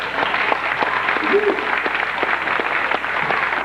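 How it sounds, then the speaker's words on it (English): Steady applause from a theme park show audience at Universal Studios Hollywood, a dense patter of clapping throughout with faint voices mixed in. "how about a round of applause for Bill and Ruth?"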